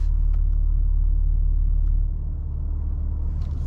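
A 2022 BMW M4 Competition coupé sets off with a deep, steady low engine rumble, heard from inside the cabin, easing slightly in level partway through, no talk.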